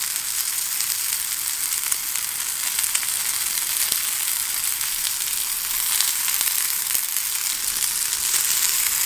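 Camembert slices sizzle on a burger patty in a hot pan, a steady bright crackling hiss that stays even and close for the whole stretch.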